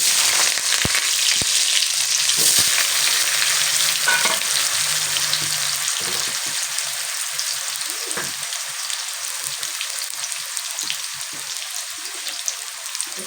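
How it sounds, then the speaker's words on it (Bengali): Long-cut potato strips fry in a pan with a loud, dense, continuous sizzle that holds steady for the whole stretch, with no voices over it. "আলুটা এই যে লম্বা লম্বা করে কেটে রেখেছিলাম সেটা আমি একটু ভেজে নেব।"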